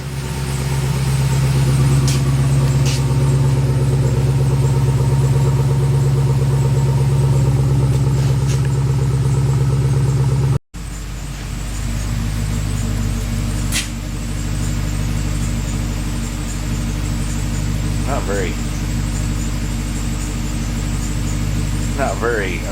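A Chevrolet Caprice with a police-car interior idles steadily after an oil change, a low, even engine rumble running throughout with one sharp momentary dropout near the middle, and faint higher noises on top.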